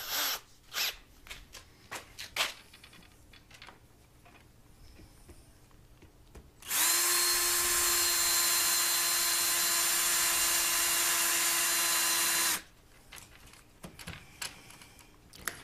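A power drill drives a screw into a PVC piece of a homemade TV antenna, one loud steady whirring run of about six seconds with a constant pitch, set between quieter handling noises.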